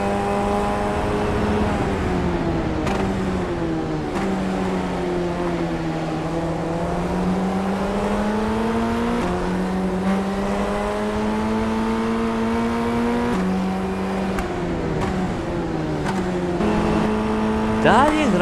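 Formula Ford 1600 race cars at a race start at Tsukuba Circuit, their engines droning loud and continuous, pitch sweeping up and down as they accelerate and shift through gears.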